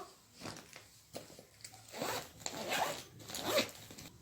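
A zipper is drawn shut on a bag that holds bangles, giving several quick rasping pulls with short pauses between them. It sounds close by and there is no talking.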